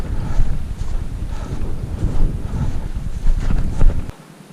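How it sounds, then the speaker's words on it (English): Gusty wind buffets the microphone outdoors during a hunt, a rough, continuous roar swelling and easing before dropping away abruptly near the end. "Wind's coming right at us."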